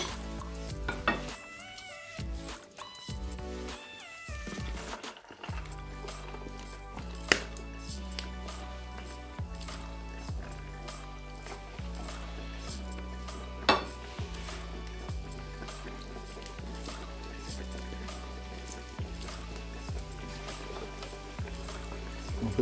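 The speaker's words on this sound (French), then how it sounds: "Donc vous allez faire cuire ça dans une huile bien chaude à 180 degrés." Churro dough frying in hot oil at 180 degrees, a steady close sizzle with a repeating soft low thump, opening with a few clattering utensil and pan sounds.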